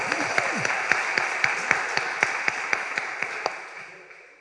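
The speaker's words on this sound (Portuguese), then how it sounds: "Temos um vitorioso aqui, uma salva de palmas." Audience applause at a Vortex Brasil talk, heard as a steady rhythmic run of single claps at a close, even pace that gradually fades out.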